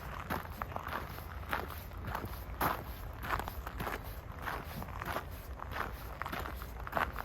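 Footsteps crunching outdoors on a freezing morning by a riverbank with leftover ice in Norway, a steady walking rhythm of close, fairly quiet steps with no talk.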